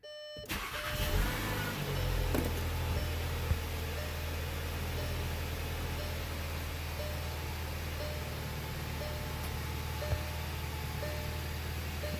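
A 2015 Volkswagen Passat engine cranks and catches, then settles into a smooth, steady idle that carries on evenly with a faint tick or two.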